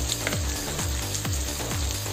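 Green chillies frying in a pan while being stirred, a soft steady sizzle under rhythmic scraping strokes of a utensil, repeating about every half second, close and moderate.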